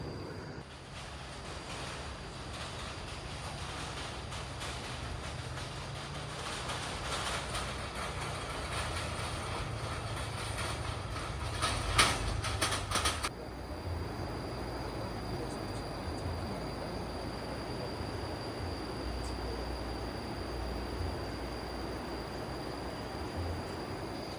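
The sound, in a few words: passing train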